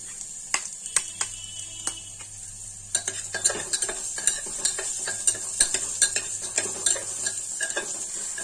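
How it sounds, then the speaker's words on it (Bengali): Chopped onions with ginger and garlic fry in a pan, a bright, steady sizzle under frequent sharp scrapes and clinks of a spoon stirring against the metal. "পেঁয়াজগুলোকে আমি হালকা লালচে করে ভেজে নেব। এরপরে দিয়ে দিচ্ছি আদা আর রসুন কুচিটা।"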